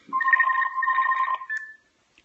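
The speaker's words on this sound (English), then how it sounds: "I got a phone call coming in." An incoming call rings on a phone as one short, clear electronic ring burst of warbling tones that stops abruptly, then silence.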